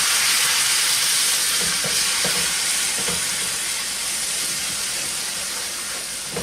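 Beef broth poured into a hot pan over a flour-thickened sauce, giving a steady loud hiss and sizzle with faint stirring taps beneath, slowly easing off toward the end.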